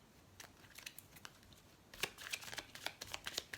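Tarot cards being shuffled and handled, giving quiet papery riffles and flicks that grow busier and denser in the second half, close and soft with no talking.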